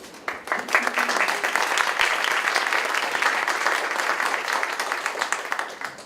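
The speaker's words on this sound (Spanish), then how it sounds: "Les pido un caluroso aplauso para ambos expositores." Warm applause from an auditorium audience at a legal procedure symposium, honoring two panel speakers; rapid, dense clapping that rises quickly, holds steady and slowly thins toward the end.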